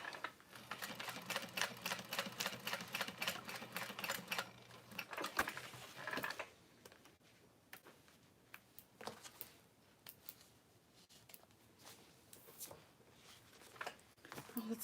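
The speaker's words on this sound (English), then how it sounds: "And then I'm gonna sew across" A sewing machine stitches across a tote bag for strength, a rapid, even mechanical chatter for about six seconds, then scattered quieter clicks and handling noises.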